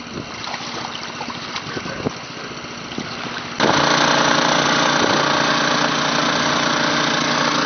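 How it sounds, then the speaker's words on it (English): Two water pumps running steadily for flood protection beside an AquaDam barrier in Cogswell, North Dakota, a loud continuous engine drone that grows noticeably louder and denser partway through. "Got two pumps running."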